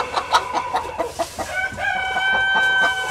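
A rooster of the KALRO improved Kienyeji chicken breed crows loudly and close, preceded by quick clucking from nearby fowl, with no one talking.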